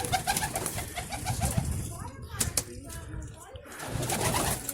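Pigeons coo and murmur close by in a loft while a person talks over them, with occasional brief rustles.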